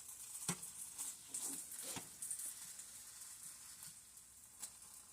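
A pepperoni omelette sizzles steadily in a frying pan, a constant close hiss broken by a few sharp scrapes and taps of a utensil against the pan as it is worked loose and flipped.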